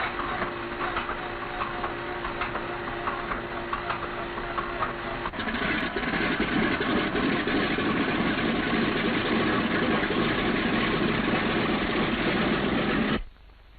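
A World War II B-17 bomber's radial engine starts and settles into a loud, steady idle, its dense rumbling drone growing slightly heavier partway through before cutting off abruptly.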